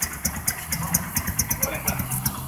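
Honda Fan 2015 motorcycle with a popping aftermarket exhaust idling nearby, a low uneven engine note punctuated by regular sharp crackles and pops, with someone talking under it.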